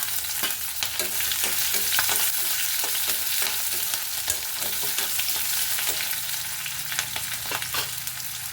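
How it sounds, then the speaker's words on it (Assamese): Onion and green chillies fry in a pan with a steady, close sizzle, broken by repeated scraping strokes of a stirring utensil throughout; no voices. "এইখিনি অকণ ভাজি লওঁ।"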